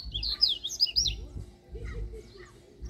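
A coleiro (papa-capim) songbird sings bright, rapid chirping phrases in repeated bursts, fairly close, with a low rumbling background underneath.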